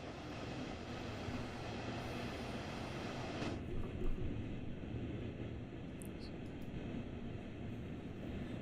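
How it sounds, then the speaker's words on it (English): A simulated train moves along the Ruhr-Sieg Nord line in Train Sim World, producing a steady, fairly quiet low rumble of rolling wheels and traction, with no talking. "Okay, the throttle seems to be building up now. Okay, power is restored and we are moving forward."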